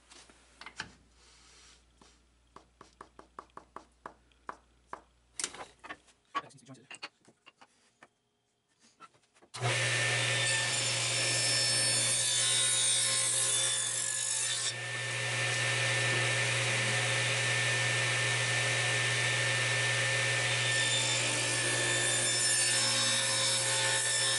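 A hand saw cuts wood strips for homemade dowels: after a run of separate strokes and taps comes a long, loud, continuous stretch of steady sawing, close up and with no voices.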